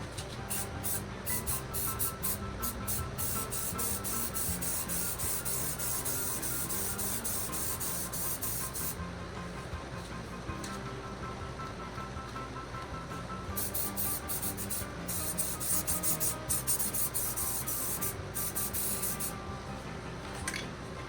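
Seam sealer hisses steadily from a spray gun onto a car firewall, a loud continuous spray with brief pulsing breaks, close by with no talking.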